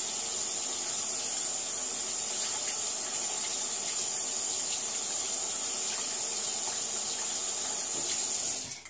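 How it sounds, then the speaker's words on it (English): Steady tap water running and splashing over a washable, reusable makeup blender sponge at a sink, a close, continuous hiss with no talk until it cuts off at the end. "when you get it wet, it really fills up with water"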